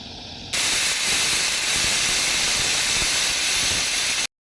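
A pressure cooker holding moong dal rice releases steam in a loud, close, continuous hiss. It starts abruptly after a brief quiet moment, holds steady and then cuts off sharply.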